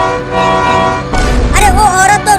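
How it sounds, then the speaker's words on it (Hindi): A tempo vehicle's horn sounds a loud, sustained honk, followed by a noisier burst with warbling, horn-like tones. "जल्दी टेम्पो का हॉर्न बजाओ।"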